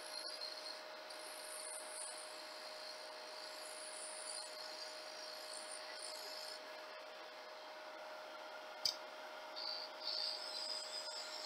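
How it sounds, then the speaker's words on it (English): A wood lathe turning a spindle while a spindle gouge shapes the tip, giving a steady high whirring scrape with a constant motor hum underneath, faint and even, with one sharp click near the end and no talk. "With a spindle gouge, I'm laying that bevel on and I'm rolling this over."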